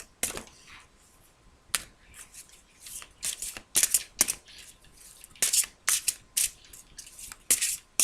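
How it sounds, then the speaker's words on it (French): Tarot cards are shuffled and drawn by hand in quick, irregular bursts of crisp riffling and flicking, close and clear against a quiet room. "je me permets de retirer des cartes ici"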